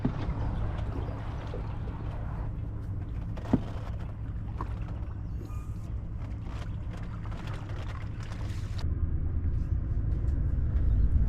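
A small boat's outboard motor running steadily, a constant low drone with a rough rumble that grows slightly louder near the end, with no talking.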